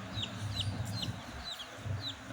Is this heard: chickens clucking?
yes